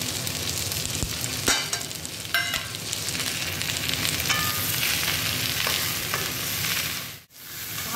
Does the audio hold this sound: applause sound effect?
no